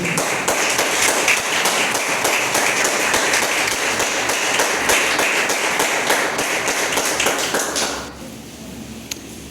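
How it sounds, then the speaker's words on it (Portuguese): A church congregation applauding during a worship service, a loud, sustained burst of close clapping with distinct individual claps that cuts off fairly abruptly near the end, leaving a quieter room. "Pode aplaudir o Senhor"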